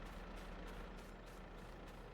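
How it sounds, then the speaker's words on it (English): Tractor engine idling in a farming video game, a steady low rumble that holds evenly throughout, quiet and alone with no talking. "let's leave the tractor running so it warms up nicely"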